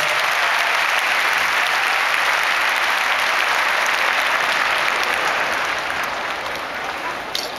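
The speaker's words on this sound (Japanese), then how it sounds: "皆様大きな拍手" Dense, sustained applause from a large audience fills the hall at a sumo wrestler's retirement haircut ceremony in Ryogoku Kokugikan, steady and loud throughout before easing slightly at the end.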